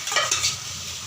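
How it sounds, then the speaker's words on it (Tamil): A pot of fish curry bubbles and sizzles briefly with a stirring scrape, close and fairly loud, a short burst of soft hissing texture. "நல்லா சூப்பராக குழம்பு நல்லா கொதிச்சு வந்துருச்சு"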